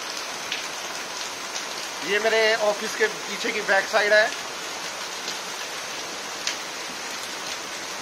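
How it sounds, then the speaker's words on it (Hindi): Heavy monsoon rain pours steadily behind an office building, a dense hiss of rainfall on surfaces that runs throughout, with someone talking briefly over the downpour in the middle. "ये देखो कितनी तेज बारिश है।"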